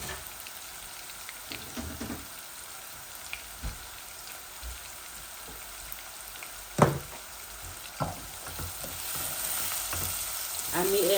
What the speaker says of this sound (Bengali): এই যে আদা রসুন দিলাম এক পিস